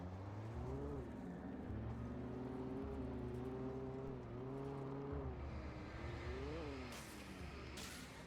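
Car engine in the video game Alan Wake, a low steady drone whose pitch rises and dips as the vehicle drives, with a couple of brief sharp noises near the end.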